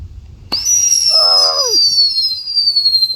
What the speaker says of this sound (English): Chocolate Bunny's lining up the fireworks. Let's do this